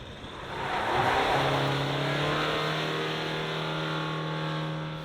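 A 2023 Ford Ranger XL reversing with slight wheel slip, its engine climbing to the top of the rev range and holding a strained, steady drone heard from inside the cab.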